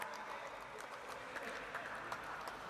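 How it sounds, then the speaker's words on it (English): Faint, distant applause from the audience at a stock-exchange listing ceremony for Ecos (India) Mobility & Hospitality, a thin continuous patter of hands with some murmuring voices underneath. "let's give a huge, huge, huge round of applause for Eco-mobility"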